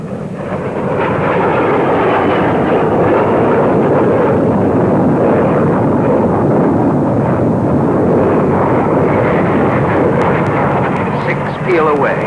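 Several Hawker Hunter jets of 111 Squadron fly a large formation loop at an air show, a loud, continuous broadband jet roar that holds steady throughout, with a faint voice near the end.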